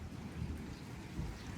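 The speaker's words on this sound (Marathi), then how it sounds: "जरा कमी झालाय पाऊस," Steady outdoor rain easing off during a storm, with a continuous low rumbling wash and soft gusting wind, quiet and even throughout with no voices.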